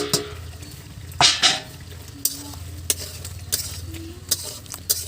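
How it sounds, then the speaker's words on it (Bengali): Fried taro pieces are stirred into a cooked spice paste in a pan, with repeated sharp scrapes and clinks of a spoon against metal over a low steady sizzle, loud and close, no voices. "ভালো করে কচুর সাথে মশলাটা মিশিয়ে দেব"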